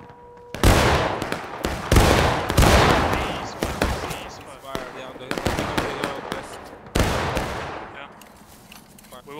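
Heavy gunfire during a battle event, likely in a video game, loud volleys and cracking shots in rapid overlapping bursts that echo and decay, with voices shouting in among the firing.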